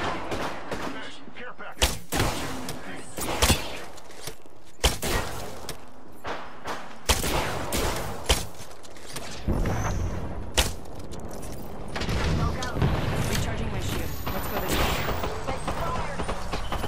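Gunfire rings out in a shooter video game, sharp repeated shots and bursts at irregular intervals over a busy background of combat noise, with occasional speech over the action.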